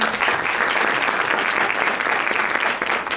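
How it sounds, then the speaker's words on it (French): A conference audience at a talk on French women in Mexico applauds loudly and continuously, the dense clapping filling the whole moment with no voices over it. "Je vous demande aussi de l'applaudir."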